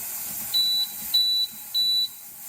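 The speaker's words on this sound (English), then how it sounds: "it's going to go to E0 and have a very quiet alarm" Three short, high electronic beeps from a Nesco/Carey pressure canner alarm sound in a steady, evenly spaced row over a quiet background hum.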